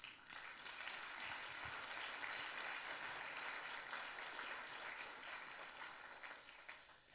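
A church congregation applauds together, dense sustained clapping from many hands filling a large room, steady then tapering slightly at the close, with no speech over it.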